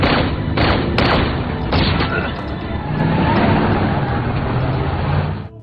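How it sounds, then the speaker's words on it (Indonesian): Several gunshots fired at a man's car in a film scene, heavy booming blasts layered over a dense rumbling action mix, with a few sharp louder cracks early on and sustained loud noise throughout. "Disusul oleh beberapa tembakan yang dilancarkan Dwight guna menghentikan mobil pria tersebut."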